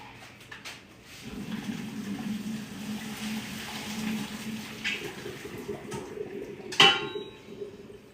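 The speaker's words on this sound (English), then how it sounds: "There's our colander. And I'm just gonna drain this" Boiled potatoes being drained into a colander in a home kitchen, a running pour of water splashing into a sink with pot clatter and a sharp metallic clank near the end.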